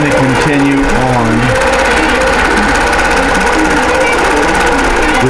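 A computerized quilting sewing machine runs jump stitches and transitions across quilt blocks, a loud continuous mechanical buzz and whir, with a person talking throughout.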